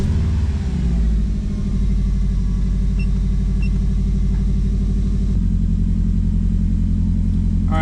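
A Subaru Legacy engine runs at a steady idle, with a continuous low, rumbling drone and a slight shift in tone partway through, close and alone.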